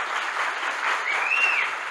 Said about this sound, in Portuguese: Vamos embora, palmas para o professor.